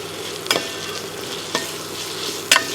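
Chopped onions frying in a pan for a sesame chicken curry, a steady sizzle broken by three sharp stirring scrapes spaced about a second apart, close and alone.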